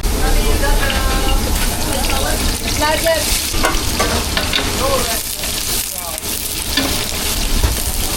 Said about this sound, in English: Tomato, garlic, chili, ginger, onion paste. Fry a little bit.